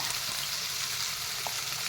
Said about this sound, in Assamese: এতিয়া মটৰকেইটা মই এনেদৰে কেইমিনিটমান সময় ভাজিলোঁ।